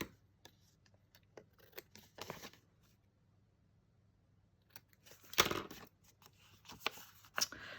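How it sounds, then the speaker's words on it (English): Scissors trimming excess paper from a handmade paper bag, a few quiet snips and rustles with a louder crisp cut and paper handling near the end, close and faint in a quiet room. "trim off the excess"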